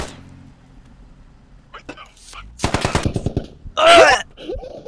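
Automatic gunfire from the video game Squad rattles in a rapid burst of about a dozen sharp shots, followed by a louder blast, with players talking around it.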